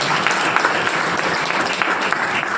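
Steady, loud applause from a seated audience at an indoor business seminar, continuous dense clapping with no pauses and no voices on top.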